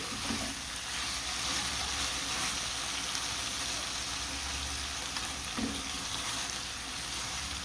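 Flat beans fry with mustard in a pan, a loud continuous sizzle with two brief clatters of stirring, no voices.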